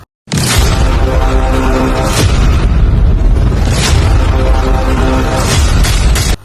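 A steady, loud low tractor engine rumble runs throughout in a harvested rice field, with bursts of hissing noise and a few sharp clunks, close by and continuous.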